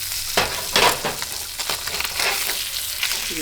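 Trout pan-frying until crispy, a loud steady sizzle broken by a few sharp clattering bursts from stirring or flipping in the pan, with no talking.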